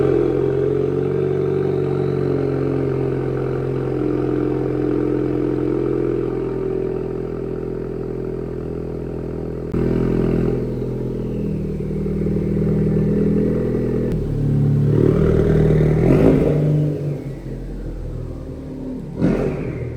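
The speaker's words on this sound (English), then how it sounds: "This is the AWE non-resonated touring exhaust. Honestly, fantastic exhaust, hands down for a daily driver." Ford Focus ST engine breathing through an AWE non-resonated touring exhaust, a steady close rumble at idle for about ten seconds, then a few louder revs and clattering blips toward the end.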